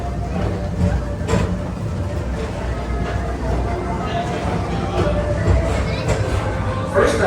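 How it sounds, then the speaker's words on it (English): The Walt Disney World PeopleMover train rolls along its elevated track through rain at Christmastime, giving a continuous, loud, close rumble with faint rhythmic clatter, and a murmur of voices sits beneath it. "your express train keeps on rolling through the future"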